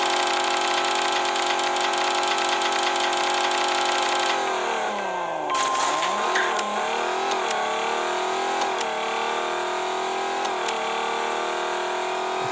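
A Chevrolet Camaro Z28 in the Racing Rivals drag-racing game revs loudly and steadily. The engine note drops sharply as it shifts gears, then climbs again through several more shifts, staying close and prominent throughout.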